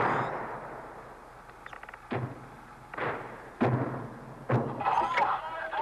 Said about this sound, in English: The Syrian guns opened fire first.